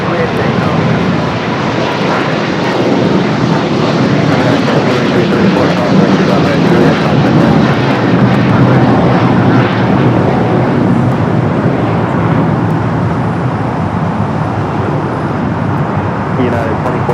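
A loud, sustained jet engine roar from an airliner taking off on runway 25 right at Los Angeles airport, steady and close throughout, with faint radio chatter underneath.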